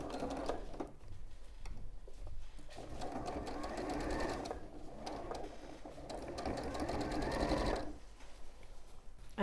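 A sewing machine stitches a dress collar in a steady, close mechanical whir with rapid needle clatter, pausing briefly a few times between runs.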